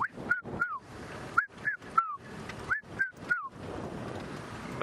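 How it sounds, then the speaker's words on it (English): Wild birds calling at sunrise in the Sabi Sand bush on safari: a run of sharp, whistled chirps and short rising calls, repeated several times at close to middle distance, over a steady hiss of background chatter and dawn ambience. "Can hear a lot of birds calling."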